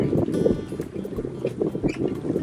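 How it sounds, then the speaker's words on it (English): A sailboat under full main moves through open water among the San Juan Islands, with steady hull wash and splashing layered over gusty wind noise buffeting the microphone throughout. "Finally, just a little bit of sailing here."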